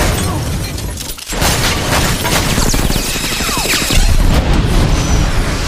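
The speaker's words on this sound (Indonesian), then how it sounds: "Tembak-menembak suami istri ini pun terus terjadi" Gunfire and explosive booms from a movie shootout between a husband and wife fill a dense, loud barrage, with shattering and ricochet-like streaks over a continuous roar.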